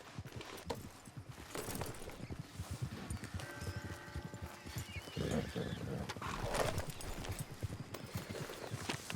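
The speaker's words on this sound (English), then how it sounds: "Look there, a wagon." Horse hooves clip-clop steadily as a horse-drawn wagon rolls along a dirt track in the Western setting of Red Dead Redemption 2, with a brief whinny, outdoor ambience and muffled voices mixed in.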